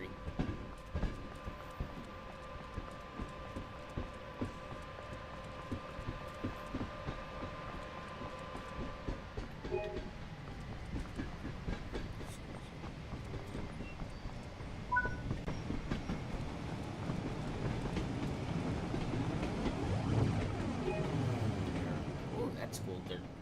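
Train in Train Sim World 5 on the West Coast Main Line North with mixed coaches, its low rumble and rhythmic wheel clatter building steadily, with a voice talking over it.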